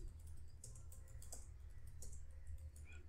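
Someone types on a computer keyboard, the rapid, uneven clicks of the keys sounding soft and close against a low background hum.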